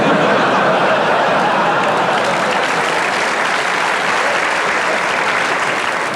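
A live comedy show audience breaks into loud, dense, sustained applause, a continuous wash of clapping with faint chuckles mixed in.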